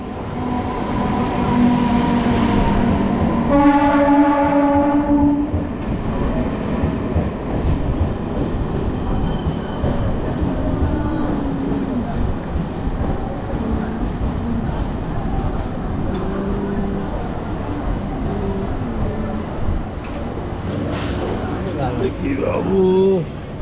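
The Jaleswar MEMU local electric train, number 68007, rumbles steadily into a station, with a horn-like tone early on and people talking over the rolling noise.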